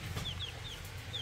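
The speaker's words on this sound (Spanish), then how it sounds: "Hoy nos acompaña de este lado un pollito." Faint, high chirps of a chick repeat at a quick, uneven pace over a low background hum, peeping nearby.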